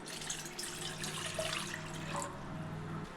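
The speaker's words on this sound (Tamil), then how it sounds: "ஒரு கப்பு நான் தண்ணி எடுத்துக்கிறேங்க." Water pours from a cup into an empty cooking pan (kadai) for rava murukku, a steady splashing stream lasting about three seconds alone with no talk.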